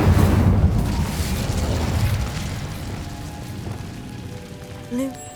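The Incendio fire spell in Hogwarts Legacy bursts with a deep, booming whoosh that fades into a crackling, rushing roar; a short voice comes in near the end.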